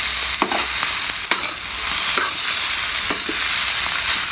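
Egg fried rice sizzles steadily in a hot pan while being stir-fried, with scattered scrapes and clinks of the utensil against the pan over a continuous frying hiss.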